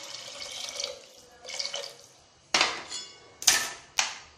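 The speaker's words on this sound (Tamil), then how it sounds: "இப்போ இதில் வந்து தண்ணி ஆட் பண்ணிக்கலாம்." Hot water splashes into a cooking pot of white chana kurma in short bursts. Two softer pours are followed by three sharper, louder splashes, each trailing off quickly, with no talking.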